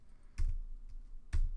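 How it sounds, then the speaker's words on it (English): Typing on a computer keyboard, quiet and close, with two bursts of quick key clicks separated by a softer stretch of light tapping, and no talking. "As I was typing this"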